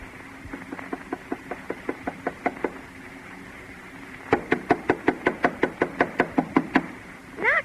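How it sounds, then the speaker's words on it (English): Knuckles rapping on a house door in a radio drama: a run of light, steady knocks, a pause, then a louder, firmer series of knocks, close and without talk. "Knock harder, Alice."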